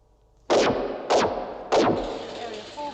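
Three loud gunshots in a TV science-fiction drama, evenly spaced about half a second apart, each a sharp blast with a ringing, reverberant tail.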